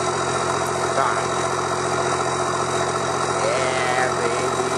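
A Cummins diesel in a pickup truck idles steadily and close by, a continuous low rumble with a faint whine above it and no pauses or revving.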